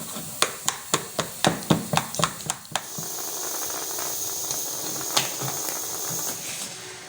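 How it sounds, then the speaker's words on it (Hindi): A pressure cooker of nihari being opened: a rapid run of about a dozen metallic taps and clicks, then a steady hiss of escaping steam with occasional clinks. "तो ये मैं कुकर को खोल रही हूँ, थोड़ा पीछे जब भाप है इसमें"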